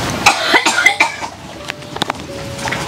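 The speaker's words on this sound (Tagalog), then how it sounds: "Lalo ka inuubo." A woman coughs repeatedly at close range, a cluster of sharp harsh coughs followed by a few more spaced ones, with faint background noise and a thin steady tone toward the end.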